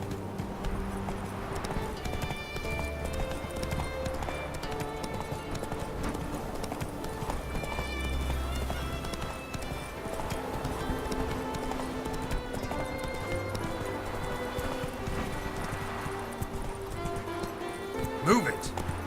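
Roach the horse galloping across terrain in The Witcher 3, with steady rhythmic hoofbeats, occasional whinnies and game music underneath, running throughout.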